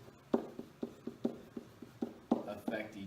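Marker or chalk writing on a board during a lesson on independent and dependent events, a quiet series of short taps and strokes with a voice speaking faintly in the background.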